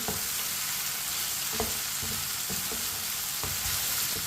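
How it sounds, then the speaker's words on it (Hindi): Green chillies and tomatoes frying in a pan, a continuous soft sizzle with regular spoon scrapes and taps every half second or so as they are stirred, close-up and fairly quiet with no voices. "सब्ज मिर्च और टमाटर को 2 मिनट के लिए पका लेंगे। इसी तरह चम्मच चलाते हुए पकाएं।"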